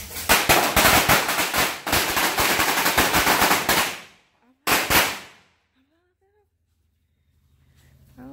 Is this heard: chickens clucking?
no